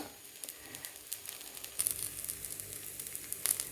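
A carrot moong dal dosa cooks on a hot pan, giving off a soft, steady sizzle with faint crackles and small pops. It is quiet and close, with no talking.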